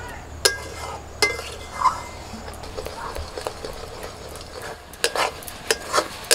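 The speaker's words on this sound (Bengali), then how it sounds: "এবার অল্প অল্প সুজি দিয়ে মেশাতে থাকবো। আর কন্টিনিউ এইভাবে মেশাতে থাকবো।" Semolina is stirred into a thickening mixture in a pan, with repeated sharp scrapes and clinks of the spoon against the metal over a soft background sizzle.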